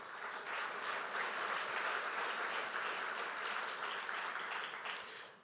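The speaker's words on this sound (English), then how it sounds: "So let's give them a round of applause." Audience applause at the opening remarks of a European innovation day conference, a steady dense clapping from a large crowd lasting several seconds before tapering off at the end.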